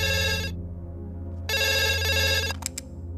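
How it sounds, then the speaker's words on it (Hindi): Film-scene telephone rings in loud, sustained electronic bursts, one long ring, a brief gap, then another, over a steady low hum. "हेलो, अमित को फोन दो।"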